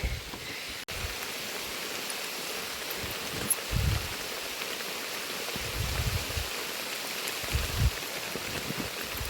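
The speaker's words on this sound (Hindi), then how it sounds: "ये बारिश ना जहाँ जहाँ पे मैं रुक रही हूँ वहाँ पे ज़्यादा बढ़ रही है" Steady rain falling outdoors around someone walking through a downpour while shopping for vegetables, a dense continuous hiss with soft low thumps of drops now and then, no talking.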